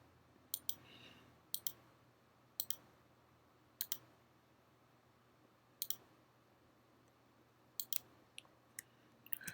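Sharp, quiet mouse clicks spaced irregularly, often in quick pairs, over a faint steady background hum.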